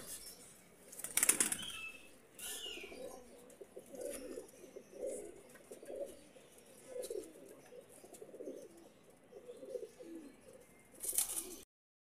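Breeder pigeons, Teddy golden Ferozepuri birds, coo in soft repeated low phrases close by, with a couple of sharp bursts of flapping wings near the start and end.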